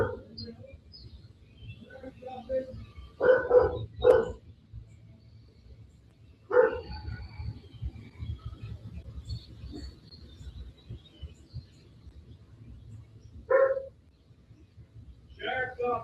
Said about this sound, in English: we hear the dog barking pretty much the entire time that the deputy can be heard walking through the house